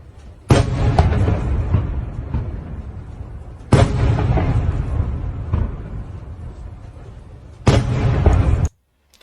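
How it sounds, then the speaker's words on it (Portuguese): Three heavy blasts from secondary detonations at a Russian ammunition depot struck by HIMARS, each a sharp onset followed by a rumbling, crackling tail lasting a few seconds, loud and fairly close, with no talk over them. "Dá para ouvir já a detonação secundária"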